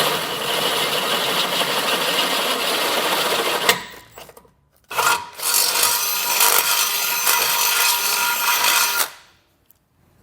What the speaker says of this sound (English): I'm going to come in with a 9/16 drill bit